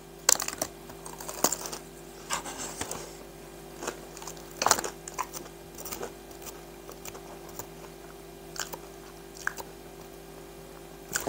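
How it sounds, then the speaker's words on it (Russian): Crunchy cherry pie pastry crackles as it is pressed and chewed close up, giving irregular crisp snaps and crunches over a quiet background. "Смотрите, прям так нажимаешь, это хрустит."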